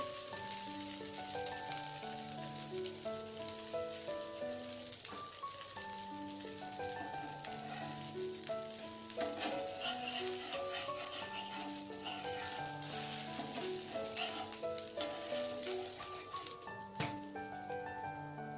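Benne dosa cooks on a hot pan with a soft, steady sizzle running underneath louder instrumental music with melodic tones throughout.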